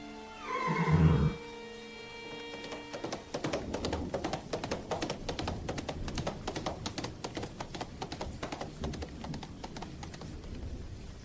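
A horse, Master Hindley's best horse, gives one loud whinny near the start, followed by a long run of rapid hoof clatter that continues steadily to the end, with no voices.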